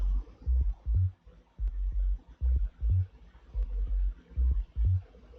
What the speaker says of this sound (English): without it, it would just be a sine wave sound like this